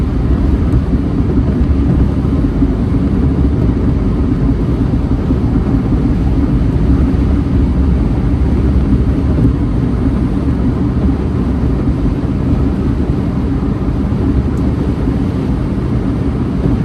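An Electra Meccanica SOLO electric car cruises on a highway at 70 mph, giving a steady, loud low road and wind roar that stays constant throughout with no talking.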